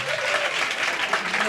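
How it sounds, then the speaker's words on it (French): Brief burst of congregation applause at a 2022 regional church convention in Daoukro, a dense clapping crowd mixed with voices. "Acclamation à Jésus"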